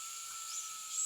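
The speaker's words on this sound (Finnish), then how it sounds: "me otetaan tästä tämä porakone ja ruvetaan poraamaan eka tästä keskeltä" A power drill boring a shallow recess into the center of a wooden board for mounting a deer trophy, a short steady high whine that holds without pause.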